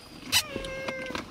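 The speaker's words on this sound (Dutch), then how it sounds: "de katten staan op de achterbank" A cat on the back seat of a car gives a short, close meow followed by a few fainter mewing sounds.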